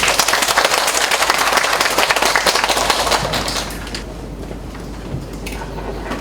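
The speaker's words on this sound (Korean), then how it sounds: "박수로 맞아주시면" Audience at an academic conference welcomes a presenter with loud, dense applause that holds for several seconds, then fades into softer scattered clapping and room noise.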